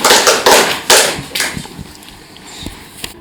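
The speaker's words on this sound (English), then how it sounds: "So clap for Ishira." A group audience claps for a young presenter at a kids' event on AI, the applause starting as dense clatter and thinning into scattered claps and a few taps over about three seconds, with no talk.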